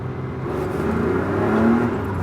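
A 1984 right-hand-drive Ferrari 512BBi, warmed up, revs its 12-cylinder engine and accelerates, a smooth rising howl that swells loud, eases slightly and climbs again through short gears.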